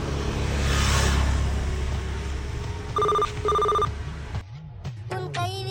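A telephone rings with two short electronic trill bursts over a steady background hum, with no one speaking.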